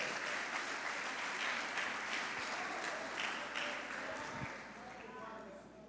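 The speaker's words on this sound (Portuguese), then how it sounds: "Dê um aplauso para Ele, porque Ele merece." Dense, continuous applause from a Portuguese-speaking church congregation during a worship service fills the space, holding steady and then gradually fading toward the end.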